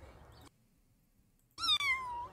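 A kitten cries with one short mew, then after a silent pause a longer, louder, drawn-out meow follows, a mother cat answering its call.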